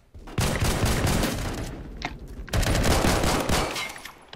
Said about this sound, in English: I'm gonna see a snipe some people with a sniper snapper one.